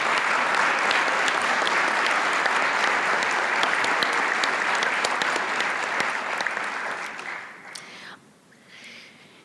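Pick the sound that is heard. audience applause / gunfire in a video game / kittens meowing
audience applause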